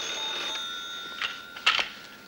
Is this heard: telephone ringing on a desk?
yes